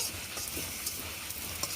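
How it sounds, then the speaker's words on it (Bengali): An egg lightly frying in a pan, a faint, steady sizzle that runs evenly throughout with small crackles. "ডিমটাও কিন্তু আমি হালকা ভেজে নিচ্ছি"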